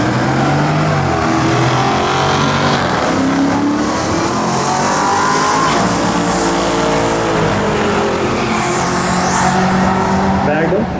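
Dodge Magnum and a red Chevrolet Nova at a drag strip during race week, with loud, continuous engine roar and revving throughout, overlaid by an announcer's voice and crowd noise.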